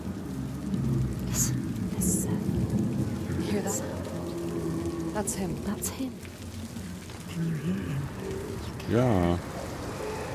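Steady rain pours down in the video game Senua's Saga: Hellblade II, a continuous wash of falling water with bird calls, faint thunder-like rumbles and a person speaking briefly over it.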